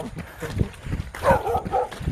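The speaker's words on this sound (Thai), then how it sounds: "ต้องมาสู้กับเสียงหมาเห่า" Dogs bark repeatedly at moderate distance, heard during an early-morning outdoor run, the sharp barks mixed with footsteps and breathing.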